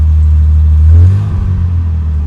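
A Jaguar XJ6 engine idles close by with a steady, slightly lumpy low rumble that briefly swells mid-clip before settling back, with no voices over it.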